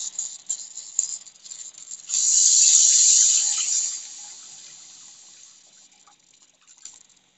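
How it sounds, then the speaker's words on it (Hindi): Water is poured into fried masala for a Bihari-style rohu fish gravy, with a steady close splashing pour that swells in the middle, then fades into quieter trickling and small clinks. "इसमें पानी डालेंगे ग्रेवी के लिए।"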